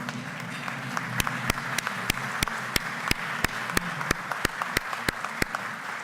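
Applause at a Rotary Club gathering, a soft crowd clapping bed with one loud, close pair of hands clapping in a steady even rhythm on top, roughly three claps per second.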